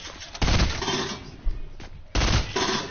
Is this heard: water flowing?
no